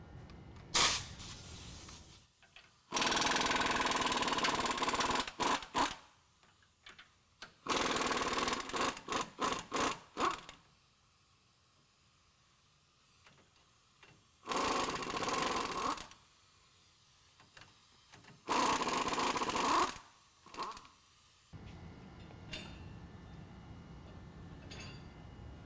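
A tool works U-bolts loose with a 21mm socket on a 2017 Ford F-150 4WD during a lift kit install. It comes in loud, hissing, whirring bursts of a few seconds each, separated by quiet pauses and some light clinks.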